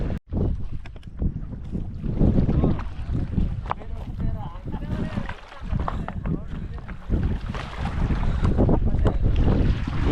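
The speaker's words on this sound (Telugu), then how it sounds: "బోట్ వస్తుంది చూసారా మన బ్యాక్ సైడ్ బోట్ వస్తుంది కదా" A boat approaching across a reservoir near the Srisailam forest area, its engine drone mixed with heavy wind buffeting the microphone and lapping water, while people talk nearby.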